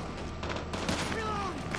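Gunfire in Call of Duty Mobile, short bursts of shots over a game soundscape, fairly faint.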